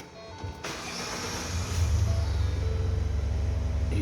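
A 2015 Lincoln Navigator, just fitted with new spark plugs and coil boots, starts with a short crank and catches into a low, steady idle rumble. The engine is close by with faint background noise.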